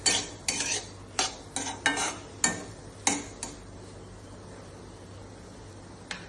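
A spoon stirs paneer bhurji in a pan, with about nine sharp scraping clinks of metal on metal in quick bursts over a faint sizzle, then the stirring stops and only a quiet hiss remains.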